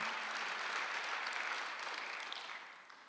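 A church congregation at a Sunday service breaks into soft, distant applause, a brief steady patter of many hands that fades toward the end.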